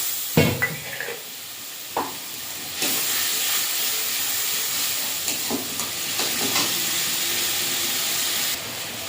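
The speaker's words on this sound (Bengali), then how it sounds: "অল্প একটু জল দিয়ে মশলাটা কষিয়ে নেব।" Spice paste frying with a little water for a Bengali fish curry, giving a steady loud hiss and sizzle with a few stirring clatters and scrapes near the start.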